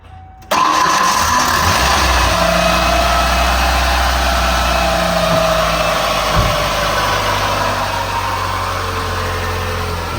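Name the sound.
1994 Ford Ranger engine cranking and running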